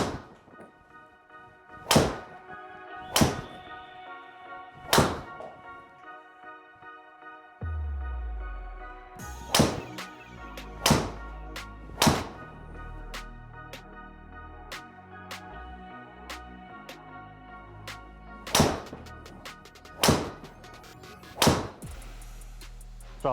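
Golf balls struck with a club into a studio simulator, a series of crisp impacts spaced a second or two apart, with a low hum and rumble of the room beneath in the second half.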